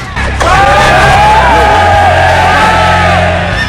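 A large video game army of many voices erupts into loud, sustained victory cheering and yelling, a dense, ear-piercing roar that holds steady until the end.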